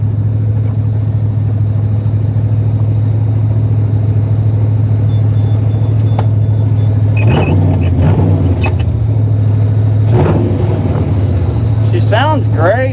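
A Ford Ranger pickup engine runs at a steady, high idle, a loud continuous low rumble throughout, with someone speaking over it in the second half.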